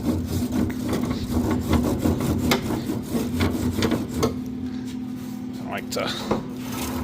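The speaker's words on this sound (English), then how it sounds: "hit the bottom side of the grate with the scraper" A metal scraper grinds over a grill grate in quick, rough strokes while someone speaks briefly, then the scraping thins out into a few scattered scrapes, close-up.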